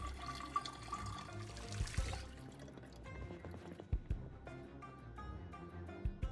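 Water running and splashing from a stream as an empty bottle is filled in a zombie survival video game, a steady trickling pour with small drips, moderately quiet and without talk.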